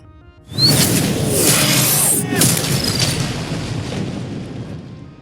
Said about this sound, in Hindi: तभी बाहर कहीं गगनभेदी विस्फोट की आवाज से कंट्रोल रूम में जलजला सा आ गया।